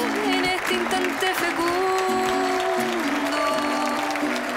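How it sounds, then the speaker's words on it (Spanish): Sustained audience applause fills a hall as the Chilean artist Violeta Parra is introduced on stage, a dense, steady wash of clapping with tonal sounds threading through it. "¡Fuertes aplausos!"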